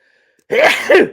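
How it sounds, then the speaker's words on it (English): A single loud, close sneeze bursts out after a moment of near silence, a sharp double-peaked explosion that quickly trails off. "I got to sneeze."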